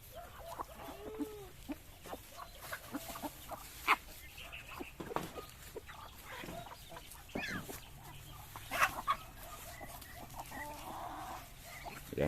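Chickens and young chicks cluck and peep at feeding time on a farm, with scattered short calls throughout and a dog barking now and then amid steady background noise.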